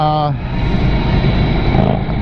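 A Victory Empulse TT electric motorcycle out on a ride gives a brief rising electric whine, then a steady rush of wind and road noise, loud and close throughout.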